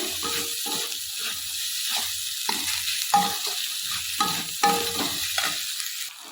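Food sizzles and crackles in a hot pan, with a few stirring scrapes and bursts of hiss over several seconds; no talking.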